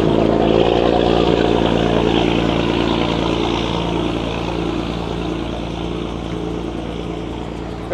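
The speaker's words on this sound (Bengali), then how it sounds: "এই যে আমাদের নৌকা চলে আসছে" A motor boat approaching on a lake at Rangamati, heard from a moving launch: a loud, steady engine drone with a rhythmic throb, strongest at the start and easing slightly as it goes on.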